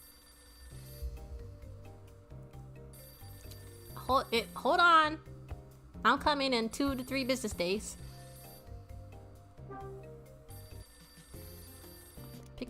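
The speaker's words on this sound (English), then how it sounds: "The phone's ringing." In the video game Hotel Dusk: Room 215, a telephone rings with a repeating chiming tone over a quiet looping game music bed. A person talks over the middle of it.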